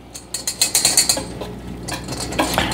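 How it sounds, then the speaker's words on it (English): A whisk stirs Jiffy corn bread mix in a bowl, making a quick run of about a dozen rhythmic scraping clicks, then softer uneven stirring that trails off. The sound is close and fairly loud, and no one speaks. "just take your whisk"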